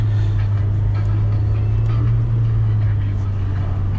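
A Lada Niva Travel rolls along a rain-soaked muddy dirt road, its engine a steady low drone with rumbling and rattling from the body and wheels throughout.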